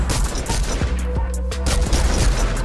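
Rapid infantry rifle gunfire in the Fortnite video game, a fast run of sharp shots repeating steadily through the whole short stretch alongside game effects.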